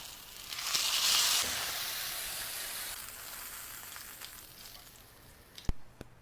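Thin square of wagyu beef seasoned with flaky salt sizzling in a hot pan, a steady close frying hiss that swells early then settles, with a couple of sharp clicks near the end.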